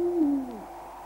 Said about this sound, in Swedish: Det var en mörk höstnatt. Full av ugglehuhu och fladdermöss.